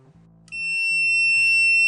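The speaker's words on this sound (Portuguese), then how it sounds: "Então ele detecta, ele mostra aqui que é resistência, mas mesmo assim ele bipa nos 3" An ANENG 622B digital multimeter measures a low resistance of about 3.3 ohms and gives a loud, steady continuity beep. The beep starts after a short quiet moment and holds until the end, alone and close.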